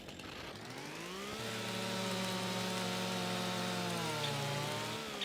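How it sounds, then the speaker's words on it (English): Chainsaw in the Farming Simulator 25 video game revving up after a brief start and holding a steady, loud buzzing drone for several seconds, with slight pitch dips near the end. "Oh, you can't run with the chainsaw, can you?"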